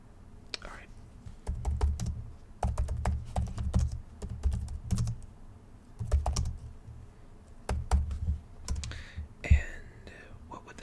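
Typing on a computer keyboard in an ASMR interview roleplay, with repeated bursts of close, crisp key clacks separated by short pauses and occasional soft whispering.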